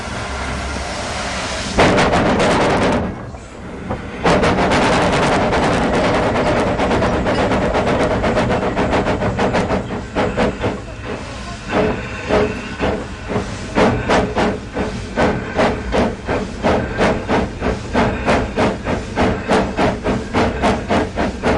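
A narrow gauge train on the Sittingbourne and Kemsley Light Railway pulls away from the station with a loud, sustained roar of hissing steam, then settles into a rhythmic run of repeated chuffs and clanks.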